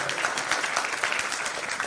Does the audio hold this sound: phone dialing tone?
no